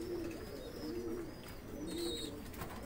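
A pigeon gives three soft, low, rolling coos at an even pace, faint beneath a steady wash of background noise, with a brief higher chirp near the end.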